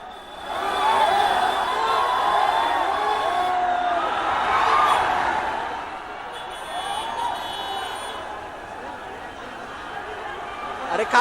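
A crowd of Shah Rukh Khan fans gathers outside his Mumbai home on Eid, with a dense, continuous murmur of many voices and scattered shouts carrying a steady level throughout.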